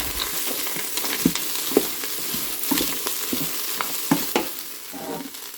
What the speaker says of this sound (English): And now I'm going to add the soy chunks, and they're still dry